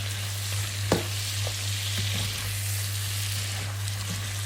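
Spicy garlic seafood sizzles and fries steadily in a pan while being stirred, a continuous hiss with a few soft scraping clicks of the utensil, close and even throughout.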